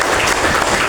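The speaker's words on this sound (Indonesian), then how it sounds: "kita beri aplaus kepada pembicara kita pada hari ini, yaitu Kang Rahmat Heldi." A crowd applauding steadily and loudly, dense clapping filling the short moment without pause.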